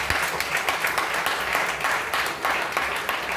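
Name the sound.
audience applause after a singing performance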